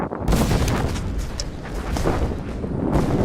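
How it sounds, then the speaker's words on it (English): Civil War cannon fire from the 1863 Gettysburg bombardment of the Union line: a loud, continuous barrage of overlapping booms and blasts, with sharper reports punching through a rolling roar. "more than 150 Confederate cannons simultaneously began to blast the middle of the Union line"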